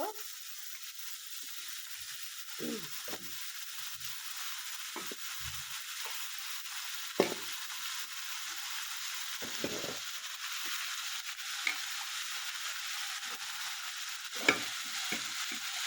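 Cut vegetables stirred in a hot pan with onion, green chilli and turmeric while cooking a fish dish: a steady close sizzle with scattered scraping spoon strokes at irregular intervals, no voices.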